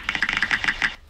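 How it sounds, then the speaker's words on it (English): Keyboard typing sound from an Opera GX browser mod: a quick run of about a dozen crisp, close clicky keystrokes in an irregular rhythm that stop abruptly. "Keyboard sound."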